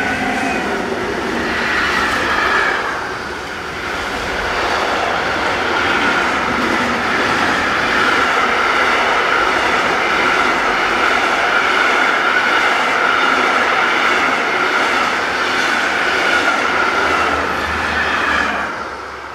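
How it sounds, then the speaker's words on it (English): An intermodal freight train heading south toward Saarbrücken on a European main line rolls past at close range, a loud, steady rumble of wagons and wheels with faint clickety-clack, sustained throughout before easing slightly at the end. "Heads south with intermodal train KT41208 from Duisburg Ruhrhorthafen to Saarbrücken"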